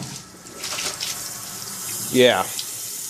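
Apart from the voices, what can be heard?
water flowing powerfully from Python clean and fill siphon tube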